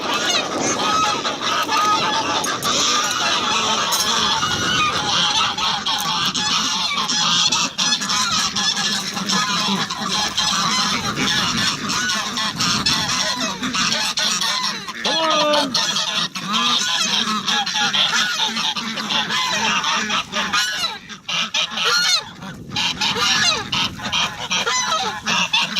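A crowd of ducks honks continuously, many overlapping calls forming a loud, dense clamor close by, with wind buffeting underneath.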